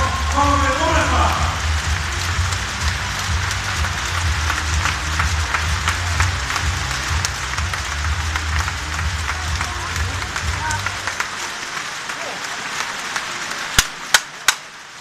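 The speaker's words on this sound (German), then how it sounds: "Bitte begrüßt jetzt mit mir gemeinsam, wie gewohnt, mit einem sportlichen Applaus unsere neue Gast, die Spieler von VfL Gummersbach." Arena crowd applauding the VfL Gummersbach handball team as they are welcomed in Kiel, dense clapping over an announcer's amplified voice, the crowd noise then thinning to scattered sharp claps near the end.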